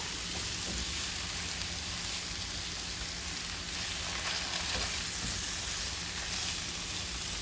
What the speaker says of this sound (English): And we are just gonna mix this up.